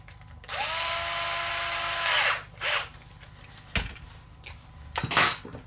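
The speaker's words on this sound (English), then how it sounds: "now we'll tighten this screw back up" A power drill tightening a screw on the servo horn of a Vanquish VS4-10 RC truck, one steady whir of about two seconds close by, then short bursts and light handling clatter.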